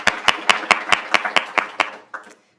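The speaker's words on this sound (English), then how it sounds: "We'll give them a round of applause as well." Audience applause for community service award recipients at an awards ceremony: about ten sharp, evenly spaced claps close by, fading out after two seconds.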